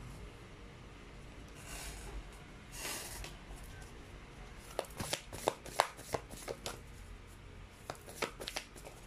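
Tarot cards being shuffled close up, a run of quick papery riffling bursts and taps in the second half, faint and alone without talk.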